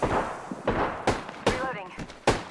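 Gunfire in the video game Apex comes as several sharp, loud shots spaced across a couple of seconds, with gaps and ringing between the bursts.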